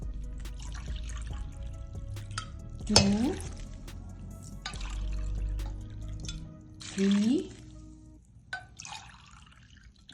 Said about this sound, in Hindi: अब इसमें हम 4 गिलास पानी डालेंगे।